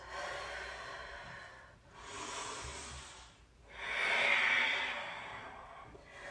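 Slow, deep breaths during a vinyasa yoga session, three long airy inhale-exhale swells with brief pauses between, close and fairly soft, no talking.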